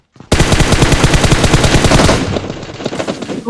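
Rapid automatic gunfire in a mobile shooter match bursts in suddenly and keeps up a dense, fast rattle for about two seconds, then breaks into scattered shots, with no talking.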